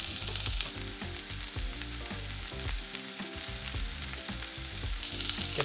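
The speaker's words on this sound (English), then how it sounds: "You'll see it's gonna sizzle away." Onions sizzle steadily in a hot pan, a constant crackling hiss with occasional scraping of a utensil, close and continuous.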